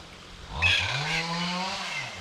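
A chainsaw engine revs up and holds a steady drone in Dusky Sound, New Zealand, its pitch rising then settling, heard from a moderate distance.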